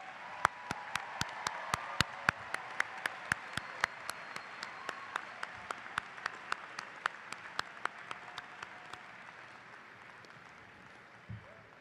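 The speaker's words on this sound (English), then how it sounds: "Let's hear a round of applause for all those loved ones that helped you get to this stage." Audience applause at a 2018 high school graduation, a soft, distant wash of clapping in a large space, punctuated by a regular series of sharp, closer claps that slowly taper off.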